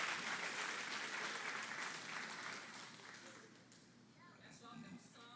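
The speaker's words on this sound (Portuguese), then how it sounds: "Vamos aplaudir os solteiros." A church congregation applauds the singles during a celebration service, sustained clapping that gradually fades, with voices and cheers rising near the end.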